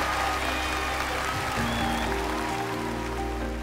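Audience on a Vietnamese TV music show applauding a songwriter, a steady wash of clapping sustained evenly through the whole short stretch, with a faint tonal hum underneath.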